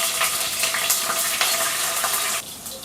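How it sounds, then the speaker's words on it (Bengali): Curry leaves and chopped green chillies crackle in hot refined oil, a loud, dense sizzle with light stirring taps that drops in intensity near the end. "এই গরম তেলের মধ্যে এখন দিয়ে দেবো একটু কারি পাতা, কাঁচা লঙ্কা"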